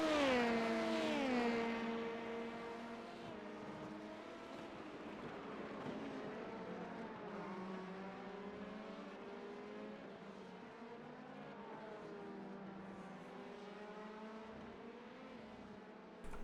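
GT3 race car engines on the Mid-Ohio track in a racing video game, a loud revving whine at first that shifts pitch through gear changes, then a steadier drone as the cars run on.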